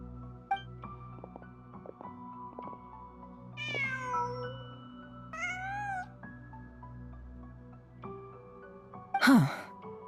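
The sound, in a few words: cat meowing in Genshin Impact video game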